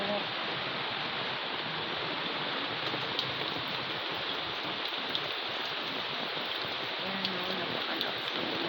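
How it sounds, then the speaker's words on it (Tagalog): Heavy rain pours steadily onto garden plants in Northern Samar, a dense, even roar of falling water without letup, with faint speech barely noticeable beneath it. "Ang lakas kasi ng ulan eh."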